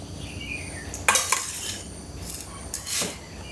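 A leg of pork, about one kilogram, is set into a cooking pot for a Chinese-style pork leg and peanut stew; two clattering knocks of meat and metal stand out against quiet kitchen room tone, with no talking.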